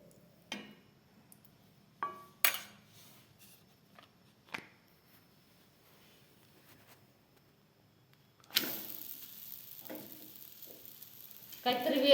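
A colourful chapati roasts on a hot pan, with a few quiet taps and clicks before a soft, steady sizzle rises and hisses continuously near the end.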